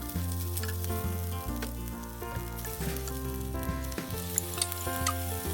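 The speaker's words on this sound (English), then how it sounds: "In a pan, heat the cooking oil and sauté onions until softened." Onions sauté in hot cooking oil in a pan, giving a steady close sizzle with occasional crackles and light stirring clicks, and no voices.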